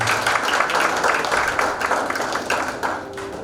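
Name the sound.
applause for a church speaker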